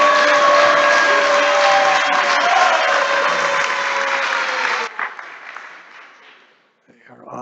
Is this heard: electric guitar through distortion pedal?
no